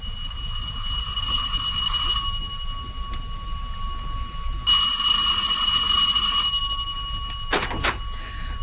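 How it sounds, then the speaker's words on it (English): A front doorbell rings continuously as a radio drama effect, bright metallic ringing in two long bursts separated by a quieter gap, ending with a short sharp clatter. "the bell continued to ring for some considerable time."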